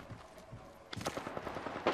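Gunfire in the battle royale shooter Apex Legends: after a quieter opening, a burst of rapid, close, loud shots breaks out and keeps going to the end of the clip.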